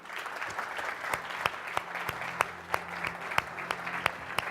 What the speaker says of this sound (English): A big round of applause for Don.